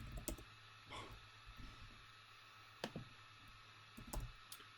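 Faint typing on a computer keyboard during an Excel tutorial: sparse clusters of soft key clicks with pauses between, over a low background hum, no talk.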